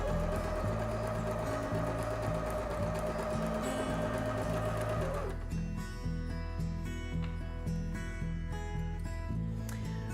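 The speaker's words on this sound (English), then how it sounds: "I've set my machine up to do a zigzag stitch, and I'm going to run a zigzag stitch along this edge" A sewing machine runs a zigzag stitch along a fabric edge, whirring steadily and close with a rapid mechanical chatter, then shifts to a lighter, slower ticking partway through.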